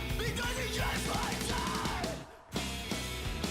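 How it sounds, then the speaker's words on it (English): A harsh vocal scream in a metal album track, a drawn-out yell riding over heavy distorted guitars and drums, loud and dense, cutting off briefly before the music crashes back in. "You get a couple screams on this album."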